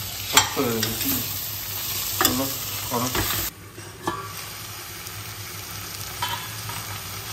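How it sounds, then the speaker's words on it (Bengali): Tomato and green chilli masala gets stirred in a frying pan, the spatula scraping in several close, distinct strokes over a steady sizzle that drops quieter partway through. "একটু নাড়িয়ে চাড়িয়ে নিই।"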